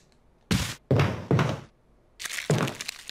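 Heavy wooden door thuds in the Resident Evil HD Remaster video game, four or five dull, loud knocks in two uneven groups separated by a short pause, with no talking.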